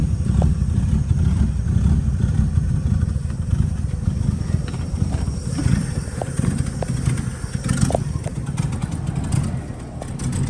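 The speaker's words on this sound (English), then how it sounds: "It's having a little bit of trouble idling here this morning until it warms up." A 1933 Auburn's cold engine idles unevenly, a low rumbling chug with occasional clatters and ticks, steady and close throughout.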